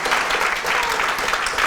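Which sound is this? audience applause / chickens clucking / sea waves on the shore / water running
audience applause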